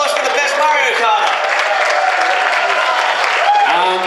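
Audience applause at a cosplay competition, steady broadband clapping filling the room for a few seconds, with cheering voices and talk mixed in underneath.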